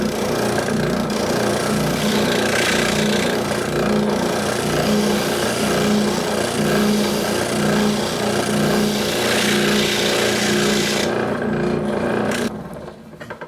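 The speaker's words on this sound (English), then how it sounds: "I'm going to finish this off with actually just either hand sanding or a random orbital sander" A random orbital sander works the surface of a guitar neck in one continuous buzzing whir for about twelve seconds, then winds down and stops near the end.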